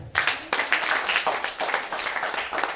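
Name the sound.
congregation applauding Jesus in a church service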